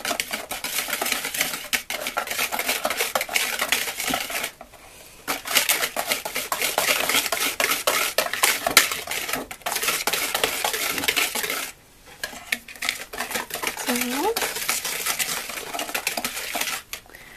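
Children stir homemade gingerbread cookie dough with honey in a bowl, making a busy, continuous clatter and scrape of a utensil against the dish that pauses briefly twice.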